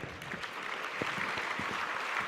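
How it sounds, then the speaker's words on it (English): A conference audience claps together in steady, dense applause that holds at an even level throughout, with no talking. "A big round of applause, guys."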